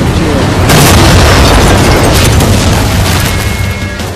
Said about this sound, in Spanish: Deliberadamente explotar ahí el Warthog para estorbarte.